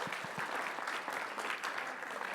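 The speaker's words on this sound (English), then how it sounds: "I think he's very worthy of a couple of claps here" Applause from a live audience closing a talk on taxes, charities and estate planning, a steady burst of many hands clapping heard at a moderate distance with no talk over it.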